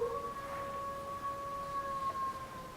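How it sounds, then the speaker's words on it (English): A distant dog howls in a long, steady, drawn-out tone in a radio drama, faint and alone without any talk. "Then a dog began to howl somewhere far down the road."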